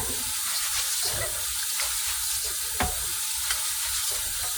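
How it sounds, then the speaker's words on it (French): Rice being washed by hand in a bowl of water on the third rinse, with soft swishing and stirring splashes at close range and no talk. "regardez comment votre tata elle lave du riz"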